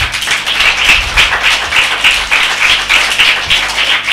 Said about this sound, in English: Let's clap for the girls.